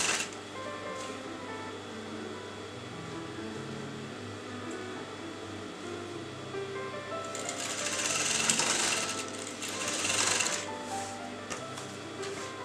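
A sewing machine back-stitches a fold in raw silk, its motor running with a steady whir and needle rhythm that grows louder and brighter in the second half.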